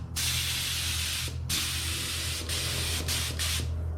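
A spray gun lays a light coat of paint on a Cobra Daytona car chassis, a loud steady hiss in long bursts broken by a few brief pauses between passes.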